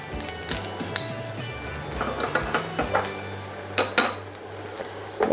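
Garlic and softened onion sautéing in a pan for a pork roll with spinach and cream cheese, a steady close sizzle broken by scattered clinks and scrapes of a utensil against the pan, with no talk.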